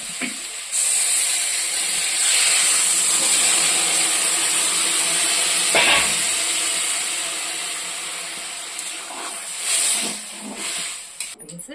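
Vegetables with salt and stone-ground spice paste sautéing in a pan for a drumstick and potato fish curry, a steady loud sizzling hiss that runs throughout with a few brief louder bursts.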